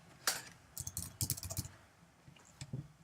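Someone types on a computer keyboard, entering a search on a trading chart website. The bursts of key clicks are quick, close and quiet, with short pauses between them and no talk.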